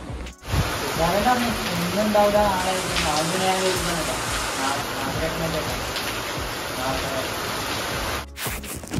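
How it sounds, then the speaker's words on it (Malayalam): A dense, steady roar of heavy rain pours down continuously, with faint voices murmuring underneath. "നല്ല അടിപൊളി മഴയാണ്. നല്ലോണം വെള്ളം ഇങ്ങനെ കുത്തി ഒലിക്കുന്നുണ്ട്."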